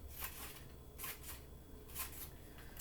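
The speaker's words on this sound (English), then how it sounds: "make your little snips to make the grass" Scissors snip through paper to cut out craft grass, giving three soft, evenly spaced cuts followed by a sharper click at the end, all quiet and close.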